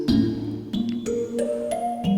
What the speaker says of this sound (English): And I just played this on the piano.